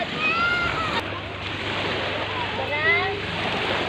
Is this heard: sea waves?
yes